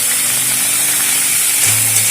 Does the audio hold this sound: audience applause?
no